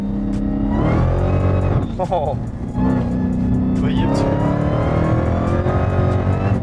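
A wrecked Ford F350 pickup accelerates hard on a wet road, its engine loud and close as it revs and climbs through gears, with brief speech from people inside.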